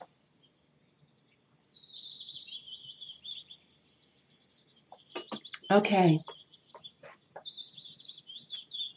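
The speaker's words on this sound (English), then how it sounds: "we have some bird sounds going on" Recorded bird calls play, bursts of high chirps and trills with gaps between them, including a loud descending call mid-way; a voice speaks briefly.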